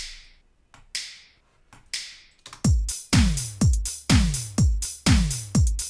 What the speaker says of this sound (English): We've got the claps, tom, 80s synth sort of snare, hi-hat, tambourine, and a finger snap.